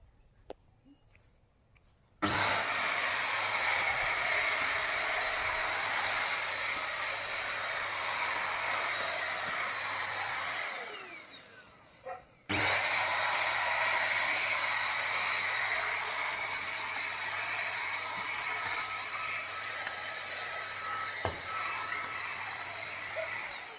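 An Agaro Regal handheld vacuum cleaner runs loud and close with a harsh, steady whoosh, cleaning a dirty spot. It switches on, winds down briefly, then restarts and runs on.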